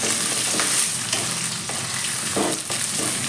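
Green chillies and peas frying in a pan, a continuous close sizzle and crackle of hot oil with occasional stirring scrapes, loud and alone without talk.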